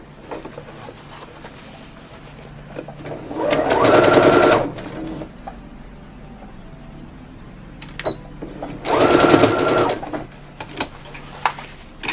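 A sewing machine stitching a pleat in a bandana face mask runs in two short bursts of rapid whirring, each about a second and a half, separated by quiet handling noise.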